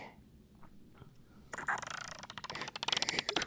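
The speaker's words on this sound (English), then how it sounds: "Sounds like a bird." A bird calls in a burst of squawking, gobbling notes that break in abruptly and grow louder toward the end, following a quieter stretch of low room noise.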